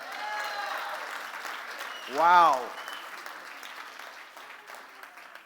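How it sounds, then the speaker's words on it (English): A conference audience applauds throughout, a steady wash of clapping from a large crowd, briefly topped by one person's short exclamation. "can I get a round of applause to see if people should consider it?"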